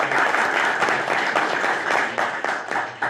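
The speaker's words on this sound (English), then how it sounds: "We can clap for him." School board meeting audience clapping for a state champion baseball player, a dense, even round of applause from a room of people that holds steady throughout.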